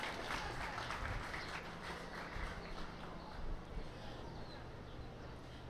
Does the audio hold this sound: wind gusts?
no